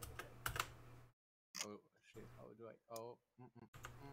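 Keys clatter on a computer keyboard in quick bursts of close clicking. Speech starts up between the bursts.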